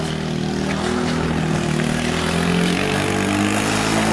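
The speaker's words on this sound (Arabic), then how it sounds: "هذه طائرة نظام الميج 21 تقصف مدينة مو حسن." MiG-21 warplane flying over a town during an air raid on Mo Hasan, Deir ez-Zor, in 2012: a steady, loud engine roar holds for about four seconds, with no voices over it.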